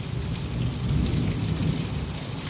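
Heavy rain pours down with thunder rumbling at a home during a downpour, a dense, loud, continuous hiss of falling water over a deep low rumble, with no voices.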